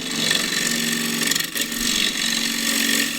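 Steady tool-on-wood cutting from a 3/8 bowl gouge working spalted wood on a lathe, a continuous close grinding whir with a brief dip midway.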